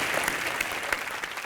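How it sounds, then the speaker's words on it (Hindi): A studio audience at a comedy show applauds, brisk dense clapping that sounds close and fills the brief moment without any speech. "जोरदार तालियां आ जाए"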